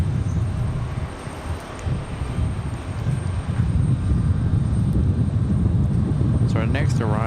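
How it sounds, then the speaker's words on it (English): A Delta Air Lines Airbus A320-200 departing Raleigh-Durham: a loud, gusty low rumble building slightly over several seconds, mixed with wind buffeting on the microphone, and a voice breaking in near the end. "That Delta departure is Delta 1407 headed back to Detroit, Michigan in an A320-200"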